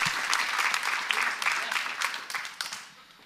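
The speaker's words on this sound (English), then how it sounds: "Give her a round of applause." Audience at a live comedy podcast show breaks into dense applause, loud and sustained before tapering off near the end.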